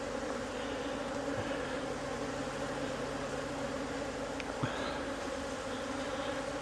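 A dense, steady drone of many honey bees buzzing close by as they are slid off hive frames, unbroken throughout with a faint click or two.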